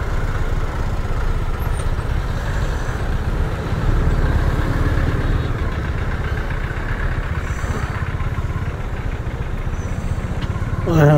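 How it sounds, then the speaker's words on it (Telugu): Traffic jam on a road with idling motorcycles and other vehicles, a steady rumbling engine idle close by that lasts throughout, with a voice speaking over it and a short horn-like sound near the end. "యాక్సిడెంటా లేకపోతే ఎంత ట్రాఫిక్ జామ్ అయింది?"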